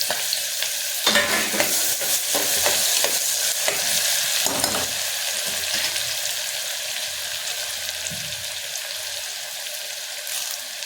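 Chopped onion and garlic fry in a pan for rajma, giving a steady loud sizzle with stirring scrapes throughout, close by and without talk.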